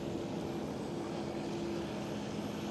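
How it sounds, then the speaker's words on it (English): Single-propeller aircraft engine at Amsterdam Schiphol airport gives a steady, distant droning rattle, constant in level throughout, with no voices present. "It's always a nice different sound compared to all those jet engines, and then you have one singular prop"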